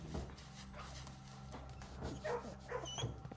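A puppy in the video game Blue Prince makes soft whimpers and small yips, quiet and close, over faint steady background hum with no talk.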